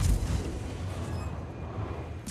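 Naval gunfire in World of Warships from an enemy ship shooting blind, heavy low booms rolling under a dense, steady rumble of battle noise.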